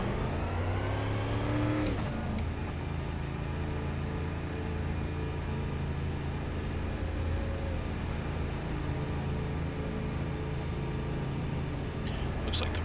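A race car engine in an iRacing oval race at Five Flags revs up and accelerates. The steady pitch climbs in the first two seconds, then settles into a loud, sustained drone with other cars audible alongside.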